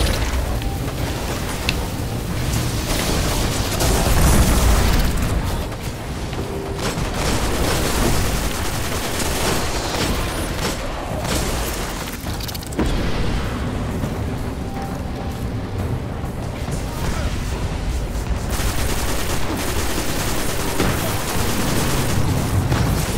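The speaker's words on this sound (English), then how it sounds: "You just missed that shot, Birdie." Gunfire in the video game Destiny keeps up a dense, loud barrage of rapid shots and booming blasts across the whole stretch, with hardly any pause in the noise.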